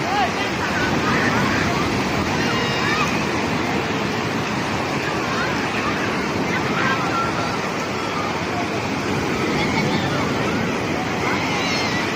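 Sea waves at a beach roll and wash in a constant loud roar, steady throughout with faint background voices mixed in.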